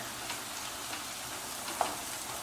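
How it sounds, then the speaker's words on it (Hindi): Onions sauté in a pan, giving a soft, steady sizzle with faint stirring scrapes and one small clink, quiet and without talk. "और इन प्याज को लगभग 8-10 मिनट तक हम अच्छा बढ़िया सौते करेंगे और ब्राउन कर लेंगे।"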